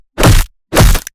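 Two heavy, crunching punch impacts from a sound redesign for the game Yakuza 0, each loud and abrupt with a short tail, separated by silence.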